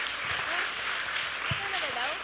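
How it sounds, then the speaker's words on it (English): Applause from an audience at an academic event, diffuse clapping heard under overlapping speech, with voices talking over it throughout. "Un aplauso más para el Dr. Reyes"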